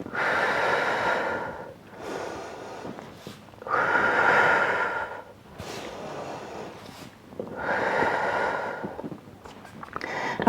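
A person doing a Pilates full-body workout breathes deeply and audibly, slow close-up inhales and exhales in a steady rhythm of long, airy breaths separated by short pauses.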